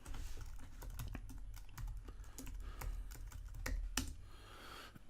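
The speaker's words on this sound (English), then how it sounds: "Type it in and hit return" A computer keyboard clatters with a steady run of close, quick keystrokes as a search for Atom code editor packages is typed in.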